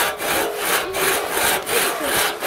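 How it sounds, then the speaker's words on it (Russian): A hand saw cuts through wood in steady back-and-forth strokes, each pass a loud, close rasp with brief pauses at the turns and no talking. "Вот у них самая ровная пила идет, у инафы."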